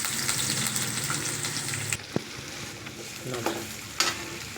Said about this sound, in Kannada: ಸ್ವಲ್ಪ ಜೀರಿಗೆ ಸ್ವಲ್ಪ ಸಾಸಿಗೆ ಹಾಕಿ ಚಟ್ಟ ಪಟ್ಟ ಅನಿಸಿ